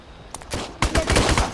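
AK rifle firing in a zombie video game, a close burst of rapid gunshots that builds into sustained automatic fire over a second or so.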